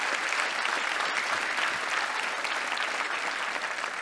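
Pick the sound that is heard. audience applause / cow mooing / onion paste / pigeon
audience applause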